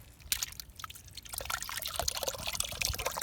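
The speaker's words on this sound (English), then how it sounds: "Oh yeah, it's coming in." Water from a broken farm water line trickling and pouring into a freshly dug hole, close and fairly quiet, a steady burbling flow that grows busier partway through.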